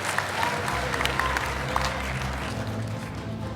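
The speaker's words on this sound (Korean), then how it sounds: "다시 한번 힘찬 박수 부탁드리겠습니다." A crowd at a Korean political report meeting applauds, with steady clapping under a low hum and scattered voices in the hall.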